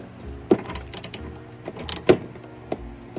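A bolt being snugged up while fitting an Archetype Racing BiRDS system on a 2015-2020 Shelby GT350, with a few sharp ratcheting clicks and metallic clunks in quick succession, close and fairly loud.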